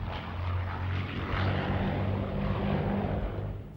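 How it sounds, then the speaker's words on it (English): Steady propeller drone of a DC-3 Dakota's piston engines, a World War II transport aircraft, holding a continuous loud hum with a low throbbing beat and no voices throughout. "the DC-3 Dakota"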